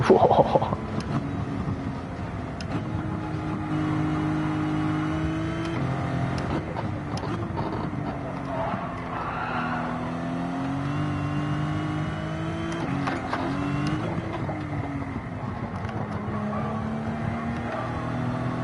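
A Ferrari Daytona races in Gran Turismo 7, its engine revving up and down through gear changes, with a loud burst at the start, then a continuous, fairly close drone of rising and falling pitch.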